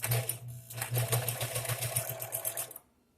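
An old, secondhand sewing machine stitches with contrast thread in a steady rapid whirring run of needle beats, briefly pausing and then stopping, close and alone.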